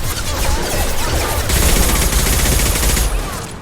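Ship weapons fire in Mass Effect 2 lands in a continuous heavy barrage of rapid, crackling blasts, loud and close, with a denser surge midway through.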